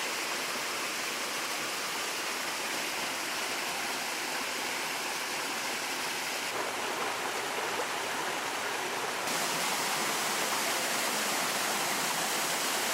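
A small forest waterfall in New Zealand's Kapiti area pours in a steady, full broadband rush, close and continuous throughout, with no voices.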